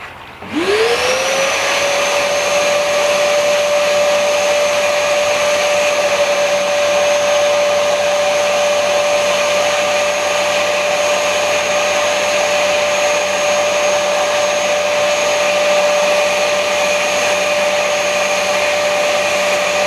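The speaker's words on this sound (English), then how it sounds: "I just want to show you guys what I have to deal with when I'm trying to hoover my pond out with these koi." A pond vacuum hoovers out a koi pond, spinning up with a rising whine and then holding a loud, steady motor drone with a high tonal hum for the whole stretch, with no talking heard.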